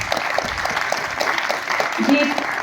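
An audience applauds at a sports personality award ceremony, with steady, moderate clapping running under a speaking voice for the whole few seconds.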